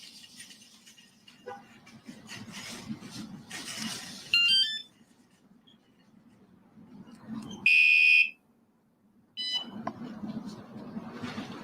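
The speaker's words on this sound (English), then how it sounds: "Now I know that I haven't turned the alarm off." An alarm goes off in short loud electronic bursts with bright harmonic tones, repeating several times through the clip, with someone talking over a steady low hum between bursts outdoors on a hot day.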